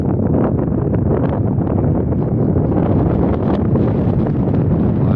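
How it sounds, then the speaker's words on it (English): Strong wind buffets the microphone in a loud, continuous low roar with gusty rumbling and no voices, outdoors beside the remains of Metro Center Mall. "Very, very windy today all of a sudden."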